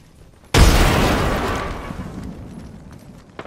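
A frag grenade explodes in the video game Apex Legends: one sudden, loud blast followed by a long, rumbling decay that fades over a few seconds. No one talks.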